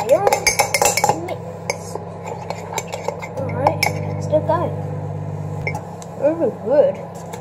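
Microwave oven heating milk for hot chocolate, a steady hum lasting a couple of seconds amid clinking dishes, cutlery and kitchen handling.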